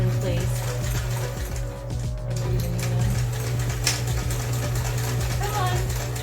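Sewing machine stitching fabric for a Pichu costume, a close, rapid mechanical whirring with rhythmic needle clatter in short bursts, under quiet talk.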